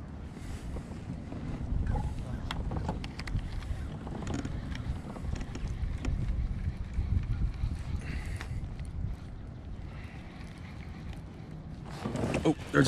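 Wind gusts across a lake during kayak fishing, buffeting the microphone in a continuous, rough rumble that surges and eases, with voices talking over it.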